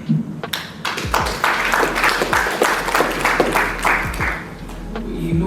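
An audience at a Bitcoin course graduation event claps in a dense, sustained round of applause, with individual sharp claps standing out near the microphone.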